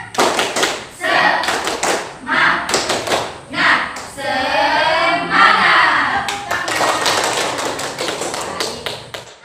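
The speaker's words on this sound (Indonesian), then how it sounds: "Kita tepuk semangat ya." A school class performs the tepuk semangat rhythmic clapping chant, bursts of patterned hand claps alternating with children's sung or chanted voices, close and lively, in a repeated cadence.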